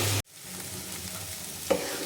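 Sizzle of a bean, potato and carrot bhaji frying in a pan, briefly cut off at the start, then a low steady fry with a single sharp scrape of a stirring spoon toward the end, nearby and without talk.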